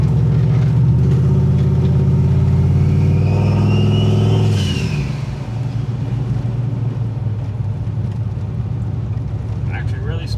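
A car with a new 6.2 engine accelerates hard on its first drive, the engine note climbing steadily to a loud roar, then dropping abruptly as the throttle eases into a lower, steady cruising hum.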